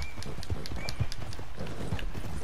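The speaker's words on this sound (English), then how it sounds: "it's a man riding a horse." Hooves of a horse carrying a rider in the Red Dead Redemption 2 video game make a steady, close clip-clop rhythm of regular hoofbeats.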